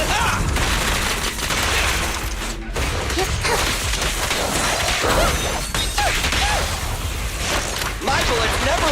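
Gunfire bursts and impact crashes ring out during the Nekomata agent's attack in the video game Zenless Zone Zero. The busy combat din runs continuously, with character voices heard amid it.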